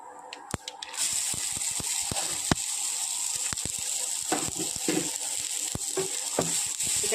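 Onion flower stalks and green chili frying in hot tempering oil, a continuous bright sizzle with scattered crackles and pops, plus a few utensil clicks as the pan is stirred, no talking.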